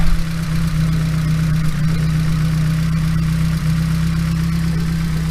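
A Nissan SR20DET engine idles steadily with slightly loud lifters ticking, a constant close, loud hum with no speech.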